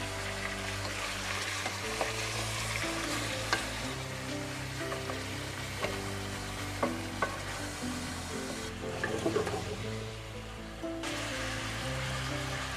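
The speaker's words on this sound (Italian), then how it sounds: "Facciamolo ben rosolare, sigillando proprio tutte le sue parti, in maniera appunto che trattenga bene tutti i succhi della carne." Rabbit pieces brown in a pan with a steady, close sizzle and crackle over a long stretch, broken by occasional stirring scrapes and a brief louder burst of spitting fat.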